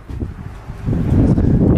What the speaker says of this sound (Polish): Wiaterek się trochę wzmógł tutaj.